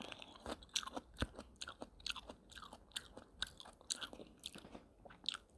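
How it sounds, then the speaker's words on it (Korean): Crunchy chewing on a fresh peach, close and fairly quiet, with a rapid irregular series of wet bites and crunches throughout. "과일을 먹고 있습니까?"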